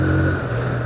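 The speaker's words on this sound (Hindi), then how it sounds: "मैं इसको रैव कर रहा हूँ तो बाइक एकदम खुशी खुशी उठ के चल रही है।" A TVS Apache RTR 160 motorcycle engine revs loud and close, a sustained throaty hum holding steady for a moment without any talk.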